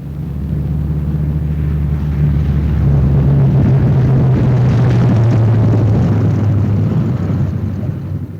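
A WWII bomber coming in to land at its home airfield, a steady, loud, droning engine rumble with a low hum that slowly drifts down in pitch over several seconds.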